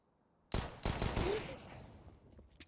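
Pistol fire in a CS:GO match between BIG and Sprout on Nuke at ESL One Cologne 2020, a burst of several rapid sharp shots with echoing decay, somewhat distant and fading into quiet.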